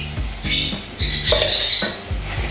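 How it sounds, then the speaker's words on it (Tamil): Finely chopped tomato goes into a pan of frying Chettinad crab masala, with a rhythmic series of metallic spoon clanks and scrapes against the pan, close and loud, repeating about every half second. "அடுத்ததாக நம்ம ஒரு தக்காளி பழத்தை பொடியாக நறுக்கி வச்சுருக்கிறத இதோட சேர்த்துக்கலாம்"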